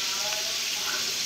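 Potatoes with beetroot frying in a pan: a steady, close hiss of sizzling oil that holds evenly throughout, with no talking.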